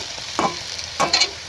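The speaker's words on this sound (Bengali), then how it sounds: "এরকম বড়া ভাজাটা প্রায় কমপ্লিট হয়ে গেছে।" Fritters (bora) fry in hot oil, a soft, steady sizzle broken by two brief louder bursts of stirring or crackling, close by with no talking.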